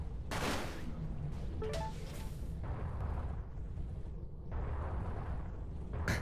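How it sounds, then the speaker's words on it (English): Plasma torpedoes firing in the space shooter game Everspace produce a dense run of booming, crackling blasts, heavy bursts rolling one into the next over a continuous rumble, with a voice briefly audible underneath. "Plasma torpedoes, hell yeah"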